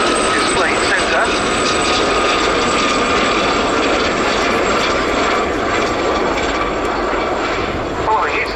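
Gazelle helicopters, one in No. 32 Squadron colours, pass over an RAF Cosford airshow display line with a loud, continuous rotor and turbine whine that holds steady throughout, with an announcer's voice running underneath.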